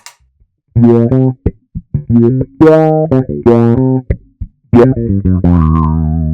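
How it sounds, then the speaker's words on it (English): Bass guitar notes run through a filter pedal with a sweeping 70s funk effect, a short phrase of plucked notes with a wah-like tone shift, loud and close. "this filter pedal because it gives you that kind of 70s funk sound"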